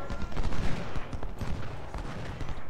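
American Civil War battle in a strategy video game, with massed musket fire crackling in a dense, continuous rattle of overlapping shots that sounds moderately close and sustained.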